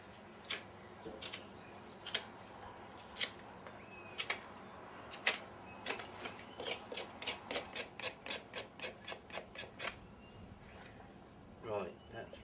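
A farrier power-rasps a thin layer from the sole of a horse's hoof during shoeing, giving sharp rasping strokes, first spaced out, then a quick even run of about a dozen, close and fairly quiet.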